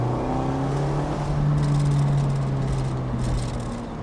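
A Mazda MX5 ND accelerating at full throttle on Black Forest mountain roads in Germany, a loud, steady engine drone with a rising tone heard from inside the car, with no talking.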